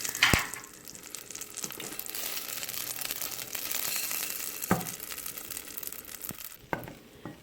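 Garlic sizzles in hot ghee in a pan for a palak paneer, a steady close frying hiss broken by a few sharp pops and clinks of utensils.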